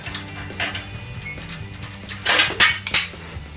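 Metal tools clink and knock while bolts and screws are loosened on an SSR 125 manual pit bike, with scattered light taps giving way to a few sharper metallic bursts near the end over a low hum.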